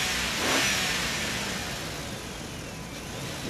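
A toy truck drives along with a continuous, steady engine-like roar that swells slightly near the start, with no talking.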